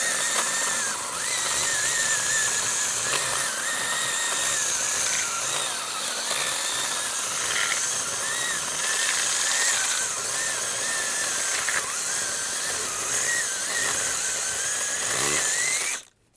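A Dnipro-M CS-12 cordless chainsaw cuts steadily through hard wood, a loud, continuous high whine of motor and chain that holds without stalling for about sixteen seconds before cutting off abruptly.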